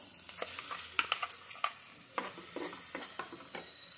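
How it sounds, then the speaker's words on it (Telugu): Ridge gourd pieces fry in a pan with soft sizzling, broken by repeated stirring scrapes and light clinks of a spatula against the pan, close and moderately quiet. "5 మినిట్స్ బీరకాయ అంతా ఫ్రై చేసుకోవాలి"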